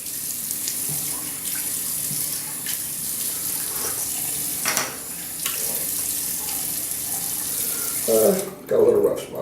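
Tap water runs steadily into a bathroom sink while someone rinses after shaving, a continuous close hiss with brief splashing near the end.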